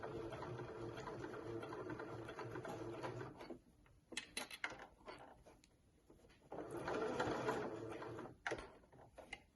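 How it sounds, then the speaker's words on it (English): A sewing machine runs in steady bursts while stitching around a fabric eye mask, stopping briefly as the presser foot is lifted and the work swivelled, with soft handling clatter between runs. "With my needle in the fabric I can lift the presser foot and swivel around just a little bit."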